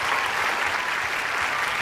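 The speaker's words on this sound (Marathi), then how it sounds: "तर या टाळ्या वाजत राहिल्या पाहिजेत।" A studio audience at a Marathi television show claps in dense, steady applause that fills the whole stretch, close and loud with no voices over it.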